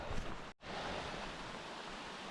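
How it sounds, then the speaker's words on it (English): A creek flowing beside a hiking trail gives a continuous, even rushing hiss, fairly faint, with a brief dropout near the start. "So the trail so far does follow this creek."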